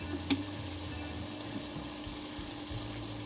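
Water pours into a pot of frying meat with potatoes and peas, giving a steady low gush and sizzle with a single sharp clink at the start.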